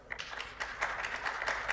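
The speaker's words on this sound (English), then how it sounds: "Clap if you don't believe they can help travelers." Audience applause at an executive travel-industry panel, steady crackly clapping filling the room throughout, moderately loud with no voices on top.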